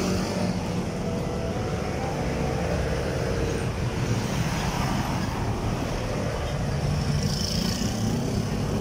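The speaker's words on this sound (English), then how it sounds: "these are vehicles coming from Camyas" Steady road traffic on a quiet Quezon City street during a Metro Manila lockdown, a continuous low rumble of cars and buses passing at moderate distance with no talk over it.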